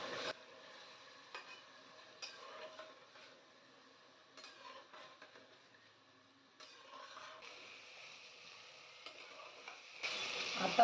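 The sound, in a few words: frying chopped onion and tomato for chicken biryani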